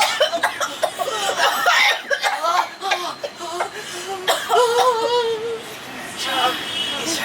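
An older woman in a multilingual stage drama performance coughs repeatedly in harsh bursts, mixed with excited voices and some laughter close by.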